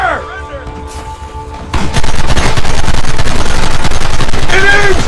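Rapid gunfire during a firefight in the video game Red Dead Redemption, with a quieter opening where a voice shouts, then a loud, dense and sustained burst of rapid shots that fills the rest.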